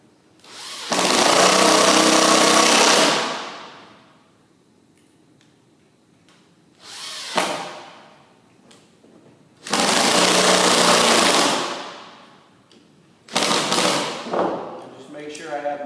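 A power drill drives screws through a metal faceplate into plywood glued to a wooden bowl blank, with loud, close whirring bursts of a few seconds each separated by pauses.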